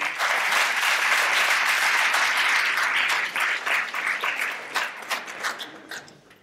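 The audience at a ceremony marking 20 years of the DQPRM breaks into loud, sustained applause. It holds steady for about three seconds, then thins into scattered claps and fades out.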